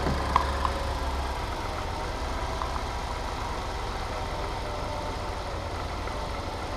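A Ford Focus ST Estate engine idles with a steady, continuous low rumble. Faint clicks and clanks sound near the start, and the run is otherwise constant with no one speaking.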